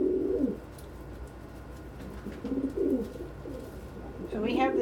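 Pigeons cooing around a shared food dish, low throaty coos in short bursts at the start, middle and end, close by, with steady background noise and no clear speech.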